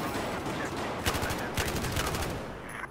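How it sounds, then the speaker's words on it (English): Shotgun fire in the shooter game Battlefield 4 sounds as several sharp, loud blasts in quick succession over a dense, noisy battle background. "the shotgun can shoot pretty decent range if you have to"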